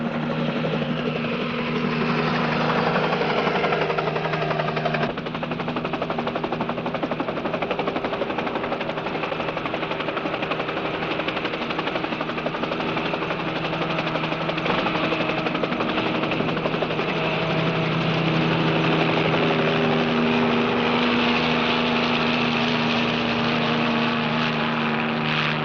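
A helicopter flies low and slow overhead near a coastal cove, its steady loud rotor and engine drone filling the whole stretch without pause and swelling slightly toward the end.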